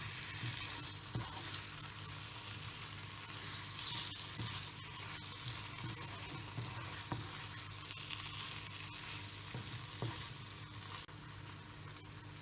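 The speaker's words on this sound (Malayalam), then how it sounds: "കരിവേപ്പില ഇതെടുത്ത് ഒന്നുകൂടി മിക്സ് ചെയ്യാം." Chicken roast sizzles steadily in a pan after fennel seeds and curry leaves are added, with a continuous frying hiss and occasional soft taps and scrapes of a spoon stirring, close and without voices.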